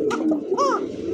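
A pigeon coos close by, one rounded, rising-and-falling call standing out over soft low background murmur, from a breeding pair of pigeons sitting on eggs.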